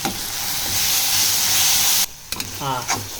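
Prawn curry with coriander and curry leaves sizzling loudly in a pan, a harsh steady hiss that cuts off abruptly, followed by a few stirring scrapes and a short buzzing rattle.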